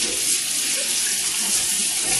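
A watermelon rinsed under a running kitchen tap, a close, loud, steady rush and splash of water over the fruit, continuous and alone with no speech.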